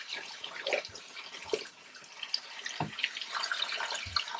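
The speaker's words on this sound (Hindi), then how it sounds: "इसमें हम ऐड कर लेंगे पानी।" Water pours from a jug into a spiced mutton raan marinade, giving a few bursts of splashing and trickling close by, with quiet gaps between the pours.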